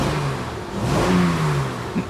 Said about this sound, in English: So this engine is misfiring severely.